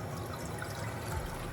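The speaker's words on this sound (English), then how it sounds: "I'm gonna start with 2 cups of water, and we're just gonna pour this in." Two cups of water are poured into a pan on a lit burner, making a soft, steady stream of splashing that runs for the whole moment without talk.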